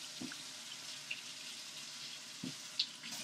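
Hot water running from a tap into a container, a faint, steady stream with a couple of small knocks and clinks, no voices.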